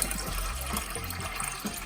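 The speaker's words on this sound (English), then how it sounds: "Take out water and then add fresh water." Fresh water pours into a fish tank in a continuous splashing gush with gurgling bubbles, close and fairly loud throughout.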